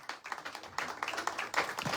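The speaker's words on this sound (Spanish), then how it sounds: "por favor, que se escuchen los aplausos" A small crowd at a confirmation celebration claps steadily for about two seconds, dense overlapping hand claps close by.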